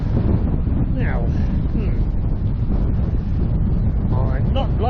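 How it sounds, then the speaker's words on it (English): Strong wind buffets the microphone continuously on a cycle tour of the Isle of Wight, a loud roaring rumble throughout, with brief voice fragments faintly heard under it. "I'm not liking that direction of wind."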